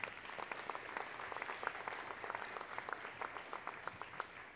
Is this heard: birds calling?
no